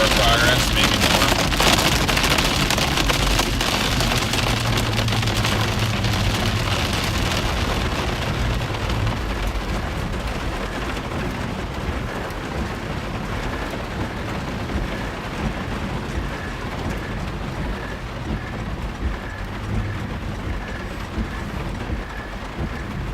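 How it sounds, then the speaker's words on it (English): Heavy storm rain pounds a car windshield during a supercell chase near Clovis, California, a dense, steady roar that rises loudest early and then eases slightly; a voice talks over it. "Is that hail? No, it's just rain."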